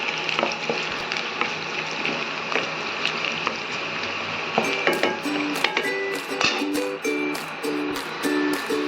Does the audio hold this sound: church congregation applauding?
no